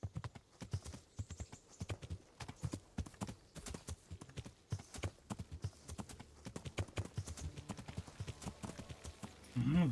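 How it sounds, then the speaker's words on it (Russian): Horse hooves clip-clop in the video game Kingdom Come: Deliverance, a steady run of close, crisp hoofbeats continuing throughout, with a brief horse snort or whinny near the end. "Глупый конь."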